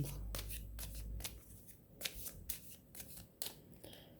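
Tarot cards being shuffled by hand in a quiet room, a run of close, crisp riffling and flicking bursts with short pauses between them and no talking.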